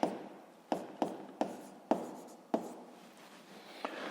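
Pen strokes of someone writing out a physics formula for gravity, a run of close, soft scratching strokes with several sharper taps as the pen meets the surface, alone without talk.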